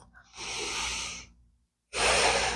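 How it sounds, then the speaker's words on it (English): Two long, deep breaths are taken during yoga, an inhale followed by a slow exhale after a silent pause. They are close and breathy, with no talking. "Let's take a breath."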